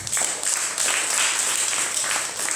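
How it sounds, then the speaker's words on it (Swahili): Church congregation clapping for the Lord during a sermon, a steady roomy patter of many hands applauding at moderate volume. "Pigie Bwana makofi."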